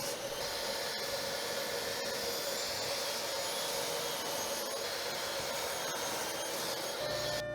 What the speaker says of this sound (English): while the machine is cutting out these parts